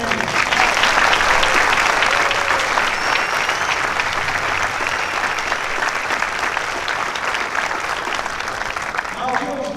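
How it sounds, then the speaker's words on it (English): A crowd at a Marine Corps recruit graduation ceremony applauds for the drill instructors and their families, a loud, continuous wash of clapping with some cheering mixed in. "please join me in a round of applause for our drill instructors and their families"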